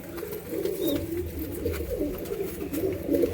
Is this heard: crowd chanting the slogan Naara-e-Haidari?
no